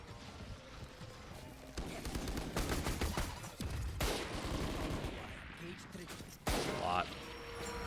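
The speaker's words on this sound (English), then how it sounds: "A lot of shots going down here" Gunfire in a Valorant esports match heard as rapid, crackling bursts of shots and some single reports, fairly loud and layered, with a caster talking over the action.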